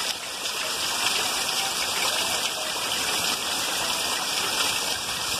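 Heavy rain in Ibiratinga, Brazil, at the start of the rainy season, a steady close hiss of downpour and running water that holds evenly throughout with no voices.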